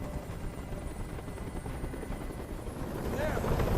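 A helicopter in the video game Detroit: Become Human gives a steady, dense rotor rumble that grows slightly louder toward the end, with faint background sounds layered over it.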